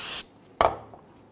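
A short burst of aerosol solvent spray hisses up close on a rear brake caliper bracket of a Dodge Charger and stops, followed by a sharp metallic clank and a faint rattle.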